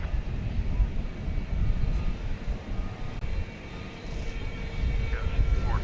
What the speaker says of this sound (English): Heavy departure flight.